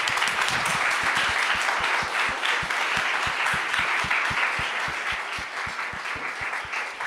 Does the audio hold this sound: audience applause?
yes